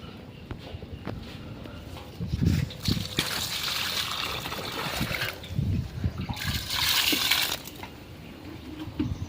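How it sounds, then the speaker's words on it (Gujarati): Water trickles and splashes while plants are watered by hand in a shaded farm garden, irregular bursts of pouring and dribbling with a few footsteps and clinks between them, close and moderately loud. "તો હાલો હવે અત્યારે ઝાડવાને પાઈ લઉં"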